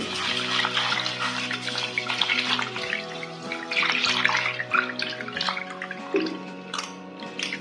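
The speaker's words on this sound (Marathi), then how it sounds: "पाणी टाकते." Water pours and splashes into a bowl of rice being washed for making anarse, a close, continuous trickling and dribbling with small drips, alone without talk.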